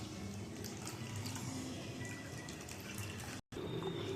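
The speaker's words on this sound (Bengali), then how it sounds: "এখানে আমি গরম জল দিয়েছি।" Hot water pours into a pot of cooking duck meat with a continuous splashing, gurgling rush that breaks off for a moment and then resumes, close and fairly loud, with no voices.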